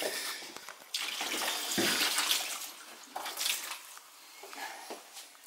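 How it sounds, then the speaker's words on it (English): Hot water being poured onto built-up ice inside a fridge to defrost it, a loud, continuous gushing and splashing that surges and eases in waves, close by with no talking. "putting hot water on it"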